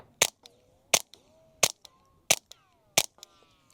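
Five suppressed .22 handgun shots with 970 fps subsonic ammunition, crisp evenly paced pops followed by faint pinging ring-outs, restrained in volume.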